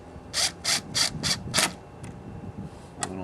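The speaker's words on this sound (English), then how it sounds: "Then you just reverse your bolts back down in there and tighten them up." Wrench tightening fasteners on a Jet Performance Module, five quick ratcheting rasps in a steady rhythm followed by a couple of faint clicks, close by and quiet.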